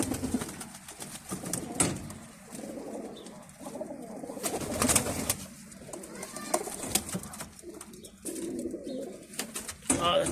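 Pigeons coo in a loft, soft repeated throaty calls close by with a few brief flutters and scattered chirps, someone speaking occasionally in the background.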